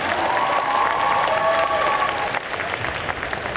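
Audience applause fills a cosplay contest jury presentation, a dense steady clapping of a large crowd, loud and close throughout, with faint tonal background music and slight cheering.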